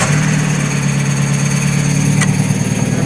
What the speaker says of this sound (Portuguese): já deu uma partidinha no carro